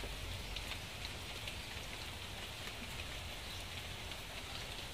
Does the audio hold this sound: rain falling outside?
yes